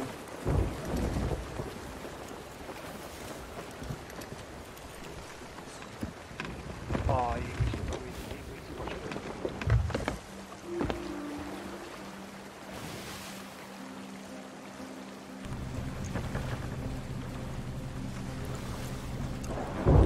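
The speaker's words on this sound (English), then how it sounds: "Are we going into a storm?" Rain and rolling thunder of a storm at sea aboard a brigantine in an online pirate video game, a steady wash with rumbles, under intermittent talk and game sounds.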